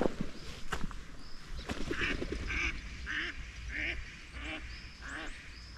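Ducks quack repeatedly by a lake on a morning walk at the edge of a town, a series of nasal calls at moderate distance over a low rumble of outdoor background noise.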